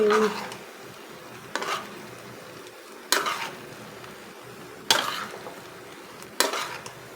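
Pancit bihon with chicken and sausage is stirred in a sizzling pan. Four or five distinct scraping strokes, each a second or so apart, rise over a steady, soft frying hiss, with no talking.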